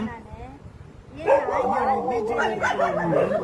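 Street dogs barking and yelping outdoors, several overlapping calls that grow louder after the first second and continue over people talking nearby.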